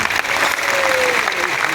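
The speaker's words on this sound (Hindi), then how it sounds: "तो एक बार इन रॉयल्टी अचीवर्स के लिए ताली बजाएं।" Indoor audience applauding a group of royalty achievers, dense continuous clapping from a crowd, loud and close throughout the short burst, with a voice faintly underneath.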